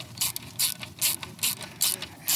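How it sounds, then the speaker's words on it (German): Screws being tightened by hand on the variator of a Vespa GTS 300 scooter: a series of about six short, bright ratcheting bursts in a steady rhythm, close and fairly loud. "So, jetzt kann man die Schrauben hier schon mal alle festziehen."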